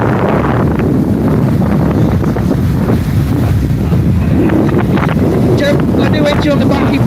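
A Formula 3 racing powerboat roars past at sea off Torquay, its engine buried in heavy wind buffeting and splashing water, loud and continuous.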